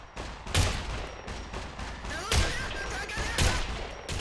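Gunfire in the video game SCUM: dense bursts of rapid shots with a few heavier booms, loud and continuous throughout, with faint voices underneath.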